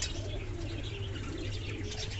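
Fancy pigeons, including a black fantail, coo softly after bathing in sunlight, with low steady cooing and faint chirps over a constant outdoor hum and no talk.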